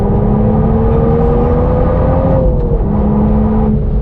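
A 2023 Toyota GR Supra with manual gearbox accelerating hard on a race track, heard as a loud, continuous engine drone from inside the car, pitch climbing and then settling, with no speech.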